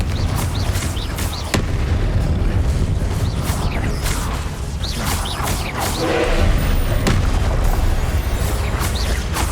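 Confringo fire-blast spells explode again and again during Hogwarts Legacy combat, producing loud, dense booms and bursts layered over a continuous roar of battle effects.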